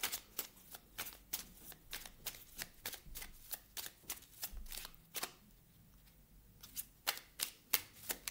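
Tarot cards being shuffled by hand, a close run of quick crisp riffling slaps in bursts with a short pause midway, no voices.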